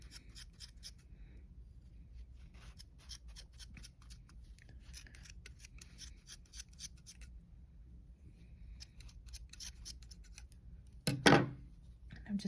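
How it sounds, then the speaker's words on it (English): Scissors snip through yarn while trimming a yarn monster craft, a run of quick, soft, close cuts followed by one louder, sharper snip near the end. "I'm gonna go a little bit at a time and trim my yarn"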